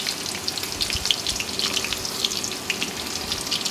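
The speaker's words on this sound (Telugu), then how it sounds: "ఆయిల్ వేడెక్కిన తర్వాత ముందుగా తరిగి పెట్టుకున్న ఉల్లిపాయ, పచ్చిమిరకాయ, కరివేపాకు వేసి ఫ్రై చేయాలి" Onion, green chilli and curry leaves fry in hot oil for a brinjal, tomato and chicken curry, giving a steady crackling sizzle with scattered sharp pops throughout, close and moderately loud.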